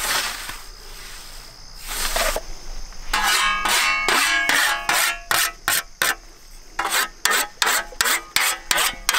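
A scythe mows grass in an open field with steady, rhythmic swishing strokes, close and fairly loud, each sweep a short rasping burst repeated in an even cadence, with no talk.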